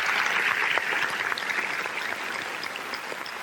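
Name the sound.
audience applause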